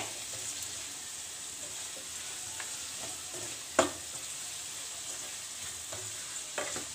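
Vegetables for noodles sizzle softly in a pan, a steady low frying hiss with an occasional sharp clink or stir, and no one speaking.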